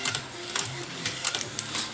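A DTF printer printing on film after maintenance: a close, steady mechanical whir with a rapid rhythmic ticking of the print head moving back and forth.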